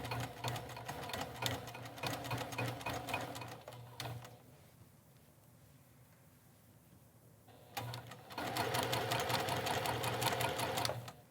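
A sewing machine topstitching around the edge of a neckline altered from a V-neck to a round neck, with rapid steady chattering in two sustained runs separated by a quieter pause of a few seconds.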